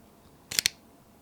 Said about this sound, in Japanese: とシャッター切っちゃった